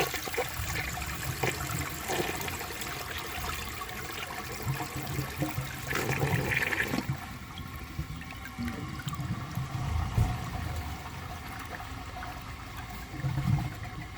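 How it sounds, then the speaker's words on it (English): A 1980 Crane Radcliffe toilet, tested by flushing a large dish towel, flushes with a loud rushing of water. A gurgle comes midway, and the water trickles and refills as the flush fades. "It's worth another flush."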